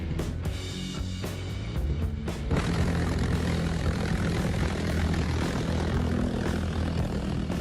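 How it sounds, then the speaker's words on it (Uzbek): A sled driven by a propeller engine, its loud, steady airscrew drone filling the clip with a continuous roaring buzz after a few sharp bumps at the start. "Ehtimol bunday dvigatel bilan jihozlangan chanani boshqa hech qachon ko'rmaysiz."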